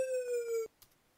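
A bright synthetic tone in Protracker glides slowly downward in pitch for about half a second using a slow tone portamento slide, then cuts off abruptly, followed by a faint short tick.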